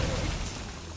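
A dense magical blast goes off as an Arcane Explosion spell in Hearthstone, a full, loud, noisy whoosh filling the whole second with no distinct separate hits.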